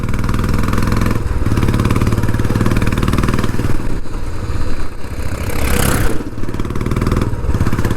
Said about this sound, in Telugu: బట్ ఇలాంటి ఎగ్జాస్ట్ వేసుకుంటే మాత్రం చాలా బాగుంటుంది